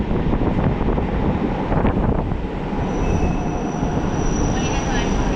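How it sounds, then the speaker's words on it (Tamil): A suburban train rumbles loudly and continuously with a faint metallic squeal of wheels, heard from on board as it rolls into Kotturpuram railway station in Chennai. "இப்போ ட்ரெயின் உள்ள என்ட்ரு ஆகுது கோட்டூர்புரம் ரயில்வே ஸ்டேஷன்"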